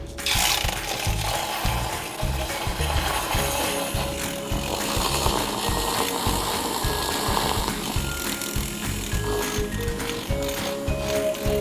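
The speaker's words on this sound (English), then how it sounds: "Let's go ahead and mix our, well, this is what it looks like, if you can see. It just looks like milk. And we're going to froth it." A handheld milk frother whirs steadily through a milky keto coffee mixture, a continuous close motor buzz with a pulsing low rumble that holds without pause throughout.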